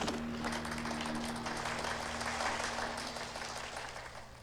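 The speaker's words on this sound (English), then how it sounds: "monks will clap at the end of every round." Crowd of monks clapping together at the end of a round in a Mortal Kombat courtyard stage, a steady wash of applause over a low game hum that slowly fades.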